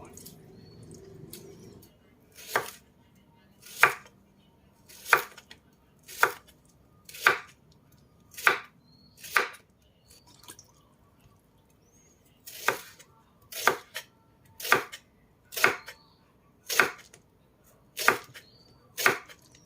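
A knife chops through a banana stalk in two runs of sharp, evenly spaced strikes on a board, close and crisp, after a brief low murmur.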